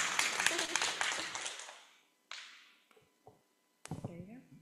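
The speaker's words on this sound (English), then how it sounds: "You guys can clap." A lecture audience at a Cornell talk claps for about two seconds, the dense clapping fading out, followed by scattered faint bumps and a voice speaking near the end.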